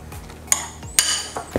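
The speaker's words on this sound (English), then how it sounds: "we're going to add our dry ingredients from earlier and mix that into the wet ingredients" Dry ingredients being stirred into wet batter for cereal muffins, giving a few sharp clinks of a utensil against a bowl amid soft scraping, close and without speech.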